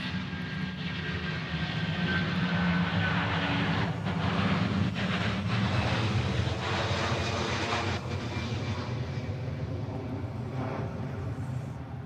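An airliner in a Lilo and Stitch paint scheme passing at Honolulu airport in Hawaii, a loud, steady engine roar and whine held throughout, close by, with no talk.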